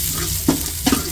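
Garlic sautéing in hot cooking oil in a pot for pork rib sinigang, a steady low sizzle with two brief louder bursts as it is stirred.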